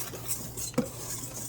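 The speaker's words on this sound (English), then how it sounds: "And then I need my whisk. And we're gonna whisk this together" A whisk stirs German chocolate cake batter in a bowl, a soft continuous scraping swirl with faint clinks against the bowl, close and steady with no talking.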